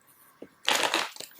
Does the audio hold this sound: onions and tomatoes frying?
no